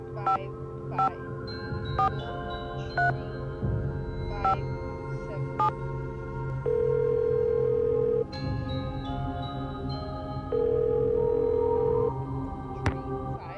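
In a Nancy Drew game, a telephone dials a string of tone beeps, and long ringing tones follow at a steady pace. The sounds are clear and close over a quiet background.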